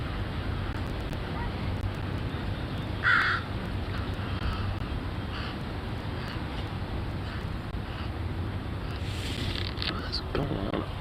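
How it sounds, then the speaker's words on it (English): Crows caw once or twice at a moderate distance amid outdoor birds including Steller's jays, over a steady background rush like wind or surf. "Stellar jays, crows, and I think some finches"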